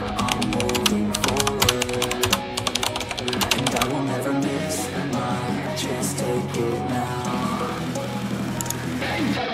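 Rapid keyboard typing as a Roblox promo code is entered on a computer, the clicks clustered early and set against steady, busy background music throughout.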